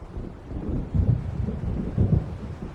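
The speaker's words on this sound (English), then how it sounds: "It seems there's a storm coming." Thunderstorm in the video game Alan Wake: deep rolling rumbles of thunder swell and fade twice over a steady hiss of rain, heavy and close.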